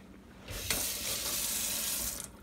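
Tap water runs to rinse a spoon in a kitchen sink, a loud steady gush that starts abruptly, splashes against the spoon and stops after about two seconds.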